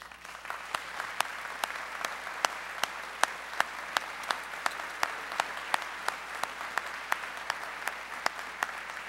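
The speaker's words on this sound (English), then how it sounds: "I invite the audience to join me in a round of applause for SCF's finest, our faculty." Sustained applause from a commencement ceremony audience, many hands clapping steadily throughout with sharp individual claps standing out over the dense patter.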